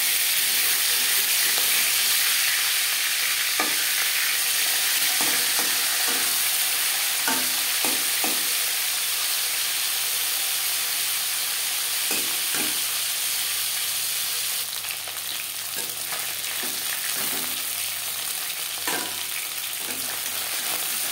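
Aar fish head frying in hot oil in a kadai, a steady loud sizzle and hiss throughout with occasional clinks of a spatula turning it.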